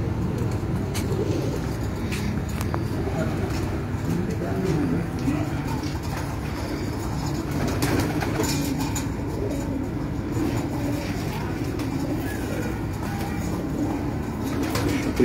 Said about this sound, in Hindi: ये लाल परी वाले टैडी कबूतर हैं जी